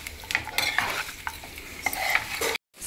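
A spoon scrapes and clanks through chicken curry in a pot, with soft sizzling and irregular metallic knocks close by, continuing for a few seconds before cutting off abruptly near the end.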